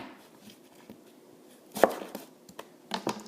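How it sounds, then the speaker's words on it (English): A knife halves a large onion and trims off its ends on a cutting board, giving a few sparse, close chopping knocks and thuds with quiet pauses between. "Let's cut them in half first, and then I cut off the ends of it."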